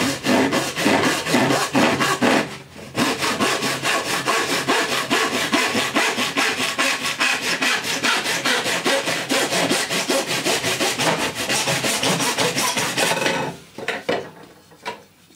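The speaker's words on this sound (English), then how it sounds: "and then we're just going to saw through it so that we get a straight cut." An old hand saw cuts through plastic pipe held in a mitre block, making loud, fast, even rasping strokes that run on for about thirteen seconds after a brief pause near the start.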